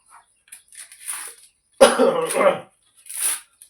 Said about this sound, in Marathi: थोडा खोकला बी झालाय भाऊ